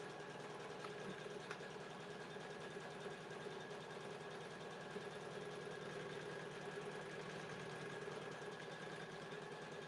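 Embroidery machine stitching an in-the-hoop Easter potholder: a steady, fast mechanical whir and rapid needle chatter, continuous and even throughout, close and without speech.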